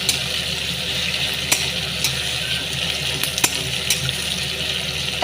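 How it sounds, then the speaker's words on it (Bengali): Mutton sautés with ginger and garlic in a pan, giving a steady, hissing sizzle throughout with a few sharp clicks of stirring scattered through it, at moderate volume and with no talking. "মাংসর যে স্টুটা বেরিয়েছে সেইটা অল্প অল্প করে দিয়ে কষাবো"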